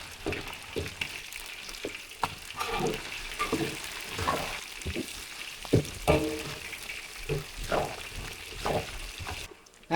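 Steady sizzling and crackling of chicken frying in hot oil, with occasional stirring and clattering throughout.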